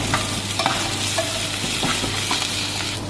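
Golden brown onions fry with ginger garlic paste for chicken kofta curry, a steady close sizzle broken by scraping stirs of a spoon against the pan, with no talking.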